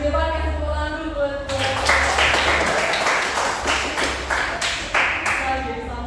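A classroom of students claps for a group of classmates coming forward to present, with dense, uneven applause that starts after a moment of talk and murmuring and keeps going, close and fairly loud.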